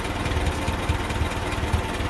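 A 1956 Massey Ferguson 35 tractor engine idles a little slow with a slight burble, giving a steady close low chugging pulse without pause.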